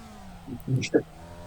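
A race car in the iRacing sim game accelerates out of a corner in second gear, its engine drone rising quietly beneath someone talking over it.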